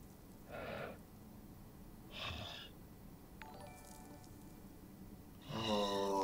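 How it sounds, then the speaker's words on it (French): A wounded creature in the video game Secret of Mana breathing heavily: three separate labored, wheezy breaths spaced a couple of seconds apart over quiet game background. "Entendez sa respiration"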